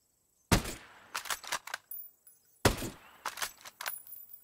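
Two sharp bolt-action sniper rifle shots crack out in Ghost Recon: Breakpoint, each followed by a quick burst of metallic clicks and clatter as the bolt is worked, loud and alone with no talk.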